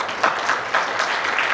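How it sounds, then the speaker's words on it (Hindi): Audience applause at a university National Sports Day event, a steady wash of clapping from a crowd with brief louder swells, continuing without pause. "तालियां तो बनती हैं, बहुत खूब तालियां बनती है, तेज तालियां बनती हैं"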